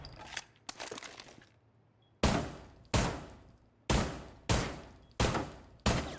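Loud, sharp gunshots in the video game Rainbow Six Siege, a few scattered quieter shots followed by five or six heavy, evenly spaced blasts, each with a ringing tail.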